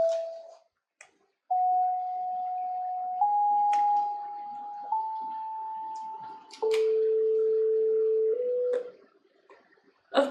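Synthesized notes with different waveforms sound one after another as steady electronic tones, each held a second or two before stepping to a new pitch, with short gaps and faint background noise.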